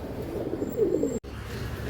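A soft, low cooing call from a pigeon rises briefly mid-clip over quiet background noise, with a brief dropout before it fades.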